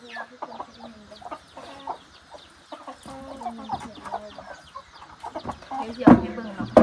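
Chickens behind a rural Lao house clucking and cackling in scattered bursts, several birds close by with a louder squawk near the end, and no talk.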